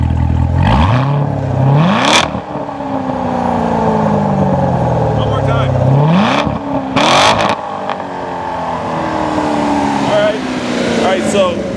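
A 2014 Chevrolet Corvette Stingray engine revs up loudly twice with sharp rising sweeps, followed by crackling exhaust bursts, then settles into a steady, throaty idle.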